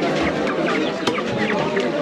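Chickens cluck and squawk at a busy chicken market in Cox's Bazaar, Bangladesh, amid dense crowd noise and a voice talking nearby.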